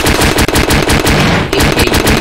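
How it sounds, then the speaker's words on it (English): AK rifle fire in a video game rattles out as loud, rapid, continuous automatic bursts, with one brief break partway through. "Let me stick with my AK."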